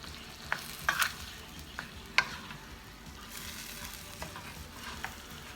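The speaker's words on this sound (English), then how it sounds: "we have ground beef up. We didn't grind it up real good. We didn't cook it all the way." Ground beef frying in a pan while being stirred: a steady soft sizzle with sharp scraping clicks from the utensil against the pan, close by, with no talking.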